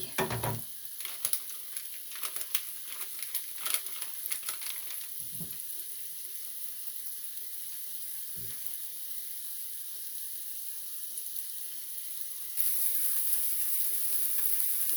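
Shallots fry in a pan with a continuous low sizzle, scattered clinks and scrapes early on, a couple of dull knocks, and the hiss swelling louder toward the end, without speech.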